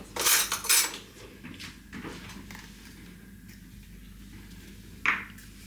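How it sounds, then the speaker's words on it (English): A spoon scooping liquid from a dish of burger-style taco filling, a few close clinks and scrapes of metal on the dish, with a brighter ping near the end. "I'm just going to use a spoon for that."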